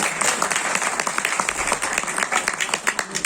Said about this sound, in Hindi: सबों का तालियां बजा दो